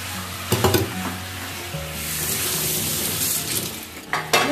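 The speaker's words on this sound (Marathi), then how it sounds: "वाटण ऍड करून झाल्यावर याला एकदा व्यवस्थित पुन्हा मिक्स करून घ्यायचं." Coconut-onion masala paste being stirred into a shark fish curry in a pan, with a steady sizzle under repeated scraping and clanking of the spoon against the pan.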